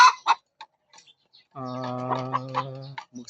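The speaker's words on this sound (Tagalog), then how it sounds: "Marami po akong alaga ngayon na manok." Black Australorp chickens clucking nearby, with a few short clucks followed by a longer, steady drawn-out call.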